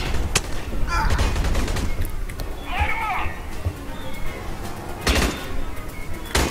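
Gunfire in the Aliens: Colonial Marines shooter game, sharp repeated shots and bursts ringing out across the clip over constant game noise, with a voice talking over part of it.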